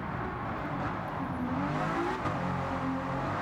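V12 car exhaust revving steadily with a few faint pops, a continuous loud engine drone filling the clip without speech.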